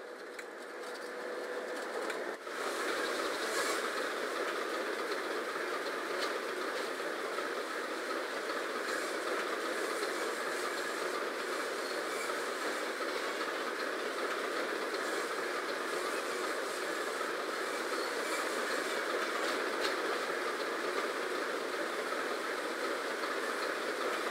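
A train engine in Train Sim World on the Northern Trans-Pennine route runs steadily with a constant, droning hum and rumble, unchanging throughout and without any voices.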